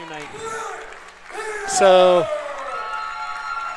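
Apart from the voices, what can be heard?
crowd giving a standing ovation and cheering at a basketball game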